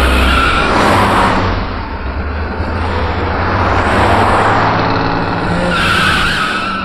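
Car tires skid and squeal loudly as a vehicle is driven fast and hard in a Hindi film scene, with a sustained engine roar and repeated screeching bursts across the whole stretch, no talk over it.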